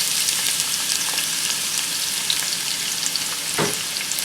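Onions for achari keema sizzle and crackle in hot oil with a steady hiss, broken by a brief scrape of stirring, close up and fairly loud.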